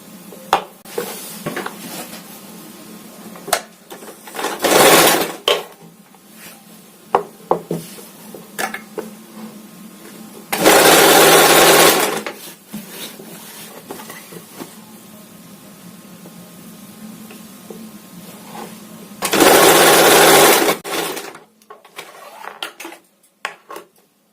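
A sewing machine stitches the neck strip of a boat-neck princess-cut long frock, running in three loud sustained whirring bursts separated by quieter stretches of handling clicks and fabric shuffling.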